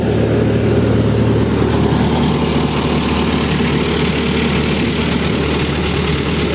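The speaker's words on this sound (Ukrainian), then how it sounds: "Даємо газ. Ну, зараз він хай поки на холостих трошки." A combine harvester's engine idles steadily at close range, a loud, continuous low rumble with a constant drone and no break or change in pace.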